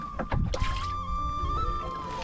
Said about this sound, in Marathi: आता आपण इंजिन स्टार्ट मारूया